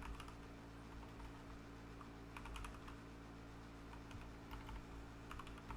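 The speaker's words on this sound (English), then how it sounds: "I'm typing wrong." Typing on a computer keyboard, a quiet run of rapid key clicks in uneven bursts over a steady low hum, fairly faint and without talk.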